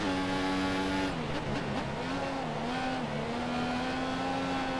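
A Formula 1 racing car in the F1 2014 video game at Barcelona, its high engine note dropping and rising as it lifts off through a corner, steady and close with tyre noise, no talk.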